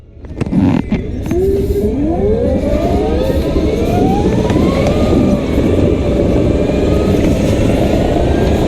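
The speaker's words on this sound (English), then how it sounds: "This kart makes some noises, so we'll see how this goes." A Boss Pro racing go-kart at full throttle during a night race, its engine whining up through rising pitch sweeps as it accelerates, loud and close, then holding a steady high buzzing drone.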